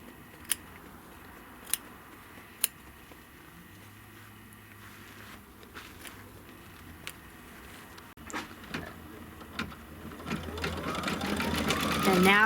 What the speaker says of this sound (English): And now it's just going to do the cover stitch. That's a little decorative stitch.